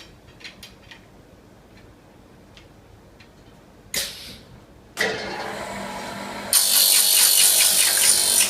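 Power tool cutting golf club shafts to length for a set of irons, heard as scattered faint ticks and clicks, then a sharp burst, and a harsh, loud, steady whirring grind that runs on and rises further near the end.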